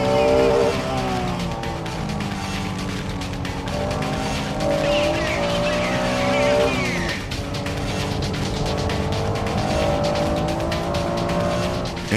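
Race cars including a four-wheel-drive GTO and a Porsche 911 Carrera RSR roar through a corner, engines climbing and dropping in pitch through gear changes, loud and close, with a tire squeal and a commentator talking over them.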